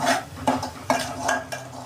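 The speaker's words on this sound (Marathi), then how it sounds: "वाटण चांगलं परतून घ्यायचं" Ground masala paste for a surmai fish curry is sautéed in a pan, with a spoon scraping and stirring in repeated strokes over a faint sizzle, close and clear.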